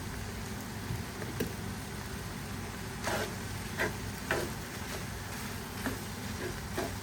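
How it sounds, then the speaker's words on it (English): Nasi goreng fried rice sizzles steadily in a pan while a utensil stirs and scrapes through it, giving a few distinct scraping strokes over the continuous frying hiss. "Now we just need to break the rice and stir it again."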